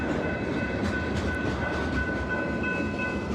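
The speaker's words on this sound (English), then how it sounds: "kind of watched the train pass" A freight train rolls steadily past a railroad crossing, seen from a bicycle, giving a loud, continuous close rumble with faint high squeals throughout.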